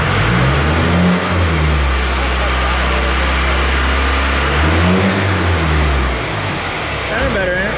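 Ford Bronco's 4BT Cummins diesel engine revs loud and close, swelling twice through rising and falling throttle sweeps over a rough idle, with people talking nearby.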